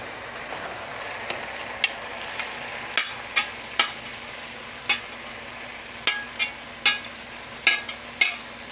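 Mixed vegetables simmering in leftover pepper steak gravy, a soft continuous sizzle under a series of sharp utensil taps and scrapes against the pan, with no voices.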